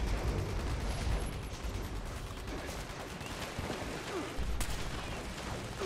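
Gunfire rattles through a dense, noisy Fallout 76 game soundscape, repeated shots blending into a constant loud wash of combat noise with a few sharper bursts.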